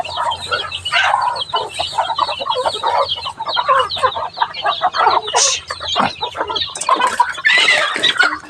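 A large flock of backyard chickens clucks and squawks nearby, busy overlapping calls filling the whole stretch, with louder excited bursts near the end.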